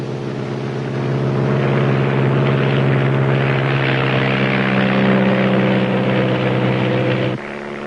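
Steady loud droning of small propeller aircraft engines, a constant close throbbing hum that swells slightly and then drops near the end.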